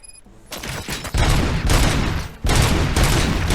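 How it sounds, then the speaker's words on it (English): Loud, dense gunfire fills a shootout in the video game Robocop Rogue City, with rapid overlapping shots swelling into sustained volleys and a brief dip before another heavy burst. "Gunshots? What's going on?"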